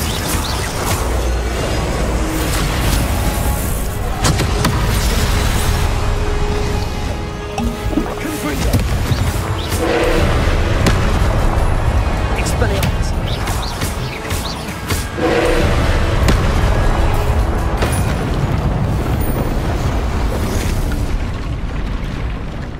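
Spell explosions in the Hogwarts Legacy video game: a dense, loud barrage of booming blasts and bursts that runs almost continuously, with brief lulls between heavy waves.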